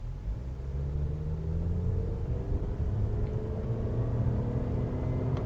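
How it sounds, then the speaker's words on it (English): A 2021 Honda CR-V 2.0S base model with a CVT accelerates on an open road, giving a steady, low engine drone and rumble heard from inside the cabin, with slowly rising tones and no talking. "we still get that CVT lag and that CVT drone"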